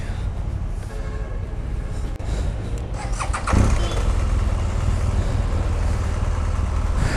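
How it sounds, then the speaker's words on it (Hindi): A BMW R1200GS motorcycle engine starting, a loud, steady broadband rumble that swells and roughens about halfway through, with no talking over it. "सो बॉयज़ बस बाइक को स्टार्ट कर रहे हैं और निकलते हैं हम लोग भी।"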